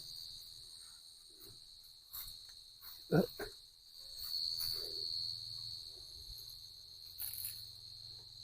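Jipom crickets chirping in the evening, a steady high trill with faint background insect noise, a few brief handling knocks and soft sounds.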